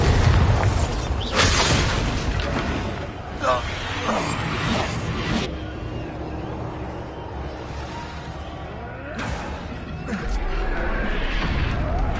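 A Confringo blasting spell erupts in a Hogwarts video game: loud booms and crashing blasts with swooshing bursts, then a rumbling, dense battle ambience that swells again at the end.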